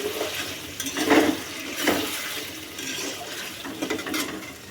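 Chicken fries in a pan in a home kitchen, with a steady sizzle and a few louder bursts of stirring and scraping against the pan.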